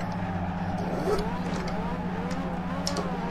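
A Nissan Silvia S14 drifting in the video game Assetto Corsa, its engine droning and revving with rising and falling pitch through a corner, with a steady low hum beneath and faint talk.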